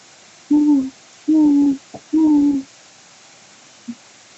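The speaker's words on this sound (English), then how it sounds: "Hoot Owl." Three clear, low hoots of an owl come at an even pace against a quiet background, followed by a faint, short note.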